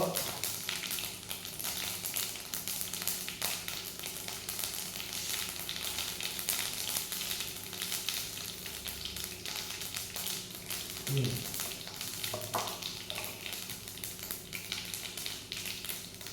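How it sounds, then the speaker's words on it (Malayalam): Mustard seeds pop and sizzle in hot oil while a mango curry is being prepared, a continuous frying hiss broken by scattered sharp crackles and taps, close and fairly quiet. "അങ്ങനെ കടുക് പൊട്ടിച്ചു"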